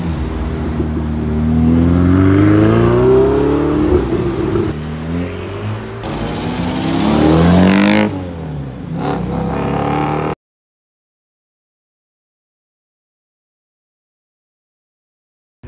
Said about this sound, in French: Je tombe sur une Audi RS4 très Turbo S.